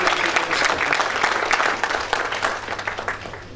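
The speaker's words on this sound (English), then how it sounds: "request you all to give a big round of applause for Mr." An audience claps steadily at a formal ceremony while a flower bouquet is presented. The sound is a dense, fairly loud roomful of hands that eases slightly toward the end.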